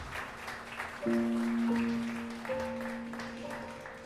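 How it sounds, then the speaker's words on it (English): Wedding guests at a seaside park pavilion give the couple a round of applause: a steady wash of clapping that swells at about one second, with sustained musical tones ringing over it. "How about another round of applause, please, for Mike and Mom."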